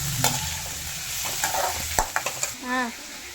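Onions and green chillies sautéing in a pan for a Sunday meal, a soft steady sizzle broken by a few brief stirring scrapes and clinks near the end.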